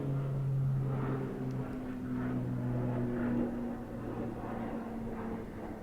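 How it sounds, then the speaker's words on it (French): An airplane passes overhead as a steady, broad engine drone with a low hum, holding at a fairly even level throughout with no talk over it. "On va laisser passer l'avion."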